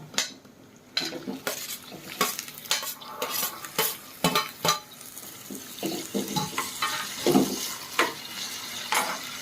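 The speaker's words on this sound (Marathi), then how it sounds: "मस्त कांदा लाल लाल होईपर्यंत भाजून घ्यायचंय." Onions frying in a pan with a steady sizzle under repeated scraping and clanking of a metal spoon, stirred briskly and close up at a fairly loud level.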